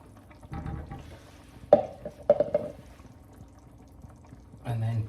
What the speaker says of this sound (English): Pour the lot in.